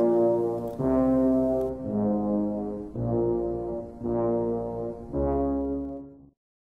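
Slow, low sustained brass-like chords of The Shining's opening title music swell and fade in five long phrases, calm and ominous, then cut to silence.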